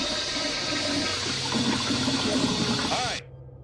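A toilet flushes in a horror video game, a steady rushing gush of water that runs for about three seconds and then cuts off abruptly, with a faint low hum left behind.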